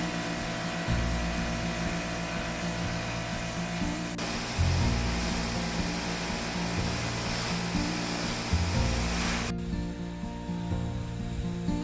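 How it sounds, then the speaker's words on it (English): Pressure washer spraying the calcium-crusted sidewalls of a drained pool, a steady loud hiss with a pump drone underneath that shifts in pitch a few times and cuts off sharply near the end. "got my Cabana boy down there with the pressure washer, and he's trying to get the ring from the collar"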